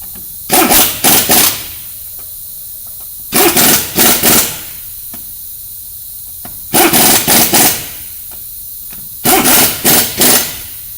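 Pneumatic air torque wrench tightening wheel lug nuts in a crisscross pattern after brake rotor and caliper work, four loud bursts of rapid hammering rattle, each about a second long, separated by quiet pauses.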